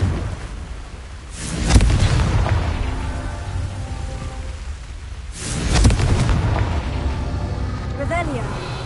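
Fiery Confringo spell blasts in the Hogwarts Legacy video game: two booming explosive bursts a few seconds apart, each rolling off into a rumbling tail, over a steady backdrop of game sound.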